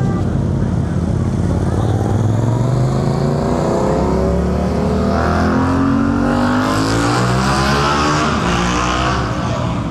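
Yamaha MT-07 motorcycle engine revving loudly at a motorcycle meet, a steady throaty roar that rises and falls as it passes nearby, with other engine noise in the background.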